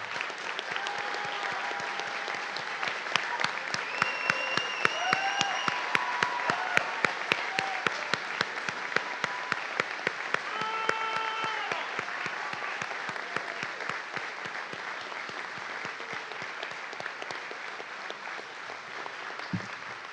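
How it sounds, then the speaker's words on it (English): A graduating class of 2022 receives a standing ovation at a graduation ceremony, with dense, sustained crowd applause lasting about twenty seconds, punctuated by sharp individual claps and faint cheering voices throughout. "let's stand up and give them a round of applause"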